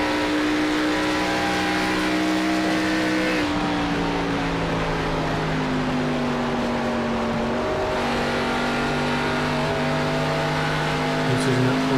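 Race car engines roar in a sim racing game at Pocono: a loud, continuous, steady drone whose pitch slides down and back up as the cars shift and corner, never dropping out.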